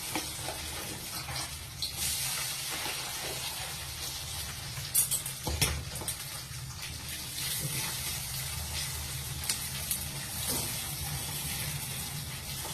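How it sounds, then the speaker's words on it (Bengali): Crispy corn fries in hot oil in a wok, giving a continuous dense sizzling hiss with a few brief louder crackles partway through, close and steady with no talk. "তো দেখো আমি কড়াতে আগে থেকে তেলটা গরম করে নিয়েছি। এবার ক্রিপসি কর্নগুলো ভেজে নেবো।"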